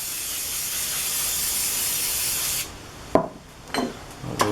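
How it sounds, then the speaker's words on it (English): WD-40 sprays from an aerosol can onto a Porsche 911 rocker cover in a steady hiss lasting a few seconds, followed by a few short rubbing or wiping strokes. "So bit of WD-40"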